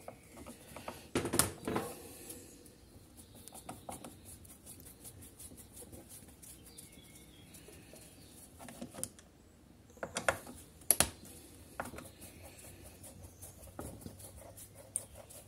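Faint small clicks and scratchy metal ticks as screws holding the ignition coil are undone on a STIHL chainsaw, with a few sharper taps standing out over quiet background.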